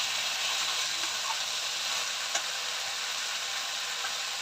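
Curry with spices being sautéed in a pan, a steady close broadband sizzle with faint crackles and one brief sharp tick, no talking.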